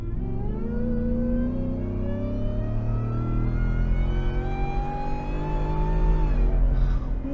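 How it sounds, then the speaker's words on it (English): A supercharged V8 in a Ford Shelby F150 pickup builds under throttle, its deep engine roar topped by a steadily rising supercharger whine that climbs in pitch for several seconds, loud and close. "just hear the supercharger whining, you know, when I press the throttle"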